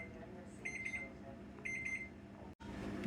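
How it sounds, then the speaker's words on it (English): A coffee pot timer beeps in two short bursts of rapid high-pitched bleeps, each a few quick pulses, heard clearly over a low indoor background before a sudden cut. "got the timer turned off on that coffee pot right there"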